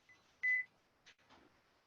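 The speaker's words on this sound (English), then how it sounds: "Let me turn off that timer." A kitchen timer in a home kitchen gives one short, clear electronic beep, followed by faint clicks and handling noises nearby while potatoes cook.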